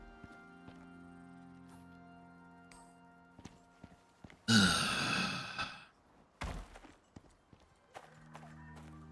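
Horse in a video game, with scattered hoof clops and a loud snort or blowing breath near the middle, then a few more scattered knocks and hoof steps, no talking.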